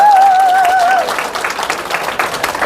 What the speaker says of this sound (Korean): 이걸 이해해 주시고 박수 쳐 주시니까